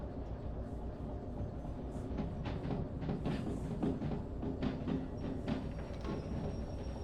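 A train rolls along in the railway game Derail Valley, a steady loud rumble of wheels and machinery with faint intermittent clacks, continuous and close throughout.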